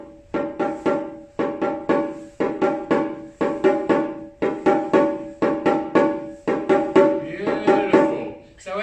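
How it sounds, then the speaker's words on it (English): Small Japanese shime daiko drum struck softly in a steady repeating pattern of quick strokes, a bright, high, tight-skinned tone with evenly spaced groups of hits, close and clear with no talking. "The shime daiko has quite a high sound."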